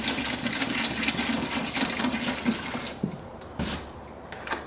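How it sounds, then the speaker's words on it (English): Liquid orchid fertilizer pours into a watering can as a continuous splashing trickle that breaks into irregular drips and bursts toward the end, close and fairly loud. "Pour in what you think you're gonna need into your watering can."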